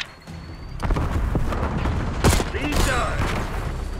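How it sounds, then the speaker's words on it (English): A Semtex grenade blows up in Black Ops 6 multiplayer, a sharp loud blast amid scattered gunfire and game noise, with debris crackling afterward and a player talking over it. "That's how hard I hit you with that Simtex."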